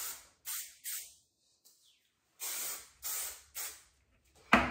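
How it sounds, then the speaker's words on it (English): Hairspray misted onto hair in a series of short aerosol bursts, about five sharp hissing sprays with brief pauses between them, close and fairly quiet, with no talking. "And spray it again."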